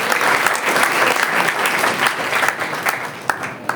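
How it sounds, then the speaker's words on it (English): Sustained applause from a crowd, dense and steady clapping throughout with a few sharper claps standing out near the end. "A big round of applause for our guest."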